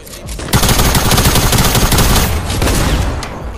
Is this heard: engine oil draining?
no